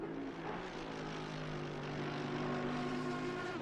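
A race car engine in Assetto Corsa Competizione drones steadily at the Zandvoort circuit, a low sustained hum with faint harmonic tones that holds quiet and unbroken throughout, with no talking over it.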